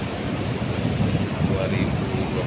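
Ocean waves and wind at Widara Payung beach in Central Java, a steady broadband roar of surf with wind buffeting the microphone, continuous and fairly loud throughout.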